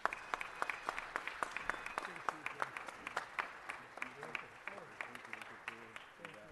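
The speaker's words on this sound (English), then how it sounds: "Let's give them one more round of applause." A round of applause at a city council meeting, scattered distinct claps at moderate distance with people talking over and after them, fading toward the end.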